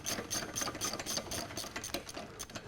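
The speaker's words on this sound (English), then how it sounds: "So continue to laboriously undo these bolts." Bolts on the lower pump of a Graco Xtreme air-driven sprayer are worked loose with a tool, giving a steady, close, dense rattling buzz that runs for the whole short stretch without pause.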